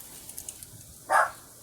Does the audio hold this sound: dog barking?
yes